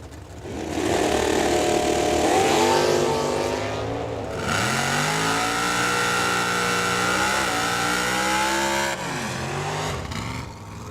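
An orange Dodge Super E automatic drag racing car launches at a raceway, its engine roaring loud and rising through the run, with pitch sweeps as it pulls away and the noise stays heavy throughout.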